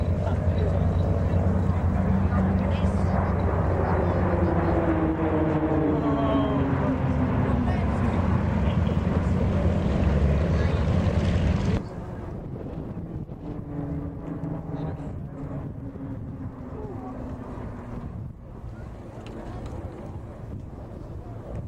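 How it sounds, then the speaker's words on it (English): RAAF Roulettes PC-9 aerobatic aircraft flying at an air show in Caboolture, Queensland, a steady engine drone with shifting pitch that drops noticeably quieter midway, heard over wind noise while a commentator talks throughout. "the PC-9 is highly manoeuvrable and a very capable aerobatic aircraft"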